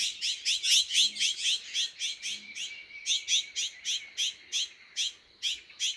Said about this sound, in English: Seems like I disturbed a little bird sanctuary here. And they're setting off the alarms that I'm here.